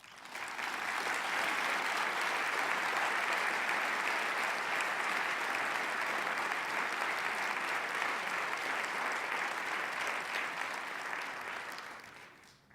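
Sustained audience applause welcoming speaker Ann Jones to an evening talk, a dense steady clapping from a full room that lasts about twelve seconds before tapering off.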